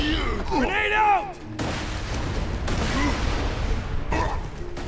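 A grenade goes off in Borderlands 2 as a pair of broad, booming blasts amid ongoing gunfire and game effects, heard at moderate loudness.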